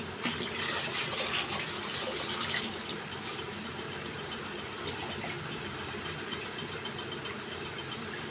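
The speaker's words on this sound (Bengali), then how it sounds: "এই যে জল দিচ্ছি দেখো" Water poured into a home aquarium holding new fish and a turtle, a continuous gushing and splashing flow, fairly loud and steady throughout with no talk over it.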